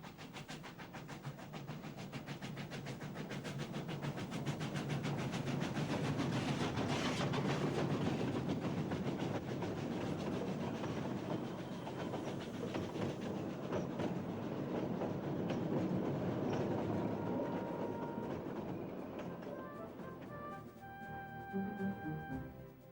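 Steam-era train on the International Railway of Central America, hauling a yellow caboose, rolling past with a continuous wheel rumble and steady clatter that swells and then fades, ending with a faint metallic tone.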